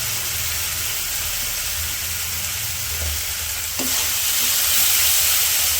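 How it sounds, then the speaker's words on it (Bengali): Ground chili powder, salt and other spices sizzle loudly in hot oil in a pan, stirred steadily in a village kitchen. A continuous close hiss runs throughout, with a sharper scrape and louder frying toward the end. "মশলাগুলো একটু কষে নিই।"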